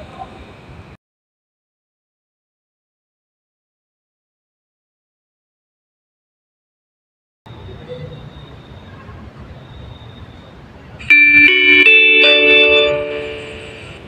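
Arduino Uno–based automatic school bell sounding for break time, a loud electronic chime with bright tonal notes for a few seconds after a stretch of silence and low background noise.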